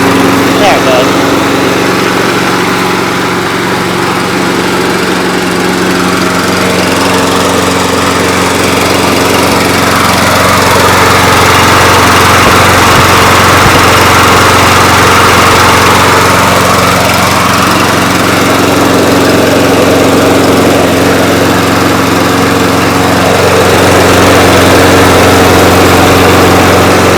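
A Yard Man Model 979 walk-behind mower with a Briggs & Stratton Intek engine runs steadily and loudly up close, its drone holding an even pitch with no pauses.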